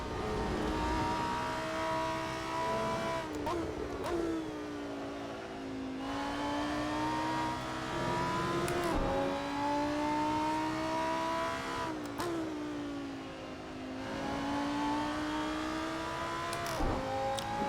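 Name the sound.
race car engines in Lamborghini Super Trofeo sim racing video game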